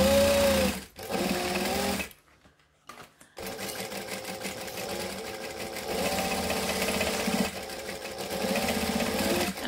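A sewing machine stitches around a bag, its motor running in steady bursts with a brief pause partway before it resumes backstitching, close and fairly loud with no talking.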